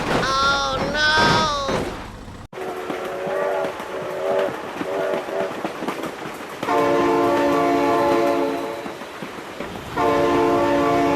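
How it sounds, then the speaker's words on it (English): A train in the BeamNG driving game sounds its horn in long sustained blasts over rumbling rolling noise, loud and close, with a person's excited voice heard early on. "Oh my god, train!"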